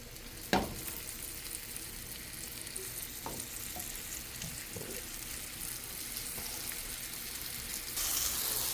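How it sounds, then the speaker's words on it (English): A roast sears in a hot pan, giving a continuous close sizzle and crackle throughout, with a sharp clink near the start and occasional soft knocks from the pan. "I want it to sear a little longer"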